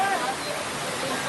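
Floodwater rushes as a torrent down MD Road in Jaipur during heavy rain. It makes a steady, dense roar of flowing water that stays loud and continuous from start to finish.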